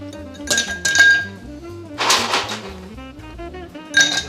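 Ice cubes clink into a mixing glass for a Sazerac cocktail, close and bright, in several separate clusters of sharp glassy knocks with a denser rattling burst in the middle.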